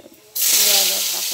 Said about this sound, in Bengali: প্রথমে আমি তেল দেব, গরম মশলা তেজপাতা দিয়ে দেব